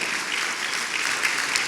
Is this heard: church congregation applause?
yes